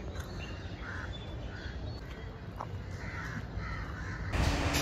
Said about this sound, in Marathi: फक्त पक्ष्यांचाच आवाज येतोय।